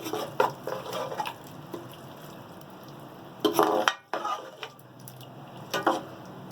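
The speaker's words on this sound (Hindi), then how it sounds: "अब इसके अंदर हम डालेंगे हमारी क्रीम। ठीक है, इसको हम करेंगे मिक्स।" Spoon stirring cream into chicken makhni handi in a pot over a very low flame, giving soft scraping and liquid swishes in a few bursts, with a faint sizzle underneath.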